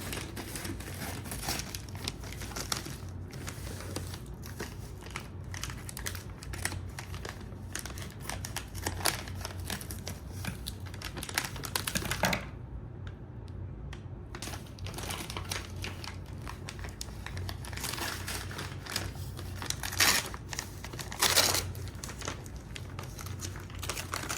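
A Christmas gift package is cut open and unwrapped at close range: steady crinkling and tearing of wrapping, with snips and rustles running for a long stretch and brief quieter pauses.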